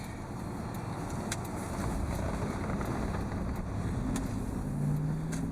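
Steady road and wind rumble from inside a 2002 GMC Yukon Denali on a test drive, a continuous low drone with a faint rising engine tone near the end where the transmission shifts; no one talks.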